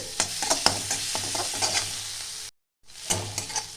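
Spice masala frying in a pan for Bengali-style aloo chop, stirred repeatedly with scraping strokes over a constant close sizzle, broken by a brief silent gap before the frying resumes.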